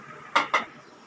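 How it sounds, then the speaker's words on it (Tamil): An earthen clay pot for radish sambar is set down on the stove, giving two quick hollow knocks close by against a quiet background. "சட்டி வச்சிடலாங்க மண் சட்டியில் தாங்க பண்ண போகிறேன்"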